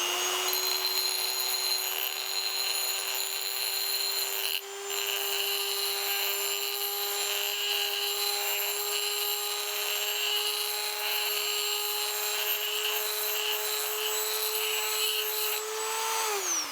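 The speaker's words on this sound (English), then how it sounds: "Oh, I forgot we got the Dremel out." Dremel rotary tool cutting into a seized stainless steel bicycle part, a steady high-pitched whine held for over fifteen seconds with one brief dip, then winding down at the end, close and loud with no talking.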